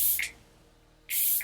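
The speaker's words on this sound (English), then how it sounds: "I think I'm just gonna spray it like in the center of my face" Two short, close hisses from a pump bottle of Glow Recipe watermelon setting spray misted onto a face, separated by a pause of near silence.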